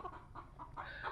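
Backyard chickens from ordinary local stock clucking at feeding time, several soft repeated clucks close by with a low barnyard rumble underneath.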